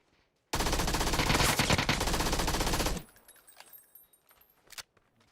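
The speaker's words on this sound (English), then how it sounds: "God, the recoil on my gun is fierce." Automatic gunfire from a weapon in the Backpack Battles video game: one loud, dense, continuous burst of rapid shots lasting about two and a half seconds, then fading into faint, scattered noises.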